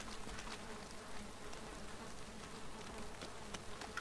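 Flies buzzing in a swamp in the video game Valheim, a dense, steady insect hum that carries on unbroken and sits at a moderate level.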